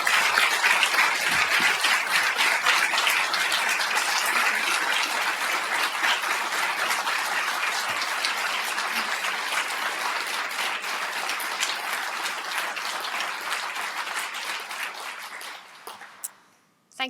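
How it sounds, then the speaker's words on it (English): A lecture audience at King's College London gives sustained applause, dense clapping filling the room steadily before tapering off near the end. "Please join me in giving a warm round of applause for Dr. Rana Baker."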